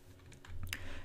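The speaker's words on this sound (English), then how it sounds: "I'm mashing my keyboard, but nothing happens." Keys on a computer keyboard get mashed in a quick burst of several sharp clicks, close and fairly quiet, with no talking.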